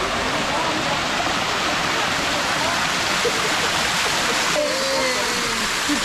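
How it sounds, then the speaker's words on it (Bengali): Steady, dense roar of Durga waterfalls in Purulia, a broad wash of falling water that stays loud and unbroken throughout. "তো বন্ধুরা দেখতে পাচ্ছ দুর্গা ওয়াটারফলস, আর এই হলো সেই ওয়াটারফলস"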